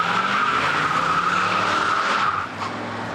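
A 1970 Chevelle SS muscle car spins its tires hard under acceleration, producing a loud, sustained, steady squeal that holds for over two seconds and then drops away to a quieter tail.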